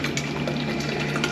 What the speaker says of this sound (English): Let's refill on water.